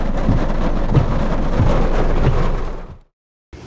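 Heavy rain pours down with thunder on an off-road trail at Ko Sadoeng in Thung Yai Naresuan, a loud, dense, steady roar with low rumbles that stops abruptly near the end before resuming briefly.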